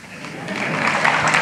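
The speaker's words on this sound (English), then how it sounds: "No, you don't have to clap." A crowd at a talk at IIM Bangalore breaks into applause, a brief swell of clapping that builds quickly and stays moderately loud, with voices mixed in.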